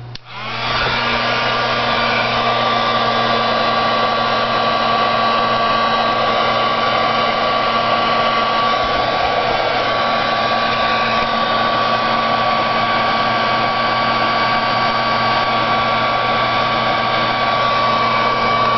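A heat tool melting distress embossing powder on a card, a loud, steady close-up blowing whir with a constant hum that runs unbroken for the whole stretch.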